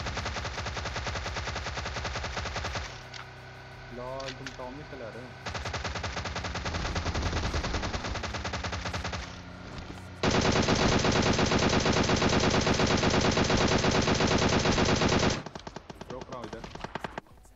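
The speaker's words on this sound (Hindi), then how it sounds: "मैं अभी भी टोमी गन चलाऊंगा" Rapid automatic Tommy gun fire in PUBG Mobile, in long sustained bursts, loud and continuous, with a brief pause midway and a heavier stretch of firing later on.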